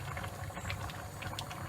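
Chakapuli, a Georgian stew of meat and herbs, simmers in its own juices with a steady low bubbling and soft popping, close and quiet, with no talk.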